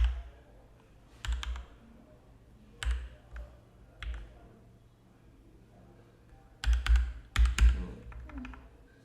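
Quiet clusters of computer keyboard typing, short bursts of clicking keys separated by pauses, close and faint, with no talking.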